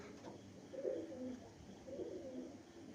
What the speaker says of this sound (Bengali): মুন্ডি জেনারেশনের পায়রা।